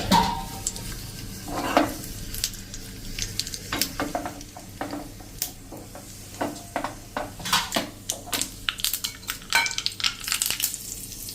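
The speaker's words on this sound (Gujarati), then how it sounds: "એમાં આપણે 5 ચમચી રાઈ, 5 ચમચી આખું જીરું અને 1 સૂકું લાલ મરચું નાખીને" Quiet popping and crackling from mustard seeds, cumin and a dried red chilli spluttering in hot oil, with scattered sharp clicks and light utensil knocks, no voices.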